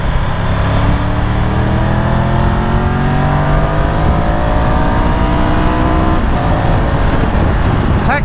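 A Triumph 1200 GT Pro motorcycle engine revs hard under heavy acceleration, a loud close continuous roar with rising pitch sweeping up through the gears.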